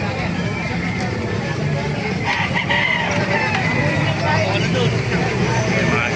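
Roosters crow repeatedly at a crowded poultry market in Calumpit, Bulacan, their calls overlapping amid clucking chickens, steady crowd murmur and distant traffic.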